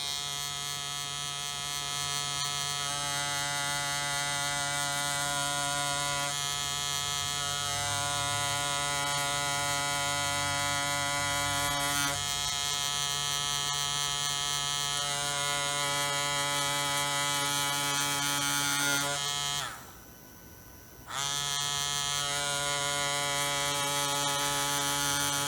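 A tattoo machine buzzes steadily on practice fake skin, a loud continuous electric hum with a brief drop near the end before it resumes, with no voices.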